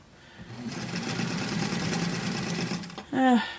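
Sewing machine running steadily for a few seconds while stitching American Girl doll clothes, close and moderate, ending in a brief higher whir.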